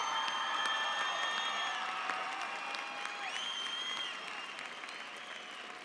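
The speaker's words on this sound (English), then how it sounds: "Let's give them a round of applause." A large crowd at a high school graduation ceremony applauds and cheers for the class of 2017, sustained clapping mixed with whistles and shouts, loud at first and easing slightly toward the end.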